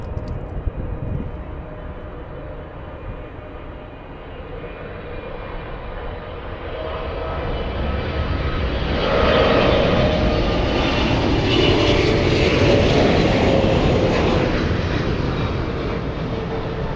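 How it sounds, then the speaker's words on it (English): A Boeing 777-300ER powered by two GE90 engines roars as a broad jet rumble that swells and brightens, peaking in the last half with a loud, sustained whine. "Big 777-300ER, powered by a couple of GE90s."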